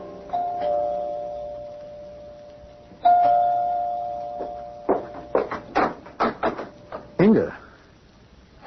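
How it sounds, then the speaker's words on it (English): A doorbell chimes twice in an apartment building, each clear ring sustaining for a second or more, followed by a quick run of sharp knocks or clattering door sounds. "You can ring the doorbell."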